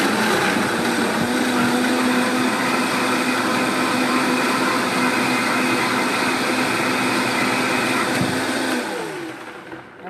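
A Vitamix blender blends a smoothie with a loud, steady whirring roar that runs nearly ten seconds, then winds down at the end.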